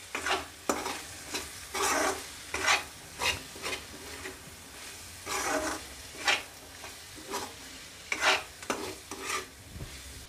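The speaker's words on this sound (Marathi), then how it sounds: "सर्व मिक्स करून घेऊया।" Peas and paneer pulao mixture mixed in a pan with garam masala and salt, repeated rhythmic scraping stirs over a faint sizzle, close but quiet, with no one speaking.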